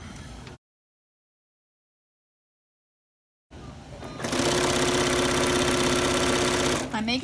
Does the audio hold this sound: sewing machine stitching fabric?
yes